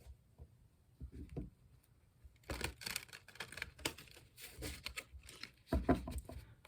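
Cat-themed tarot cards shuffled once more by hand, a string of quick papery flicks and riffles in uneven clusters, close up and fairly quiet, without speech.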